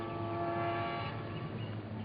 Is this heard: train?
yes